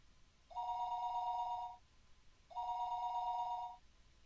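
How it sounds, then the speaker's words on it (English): A telephone in the Higurashi When They Cry visual novel rings twice, each electronic bell-like trill lasting about a second with a short pause between, clear and alone over faint background hiss. "The phone rang for a third time."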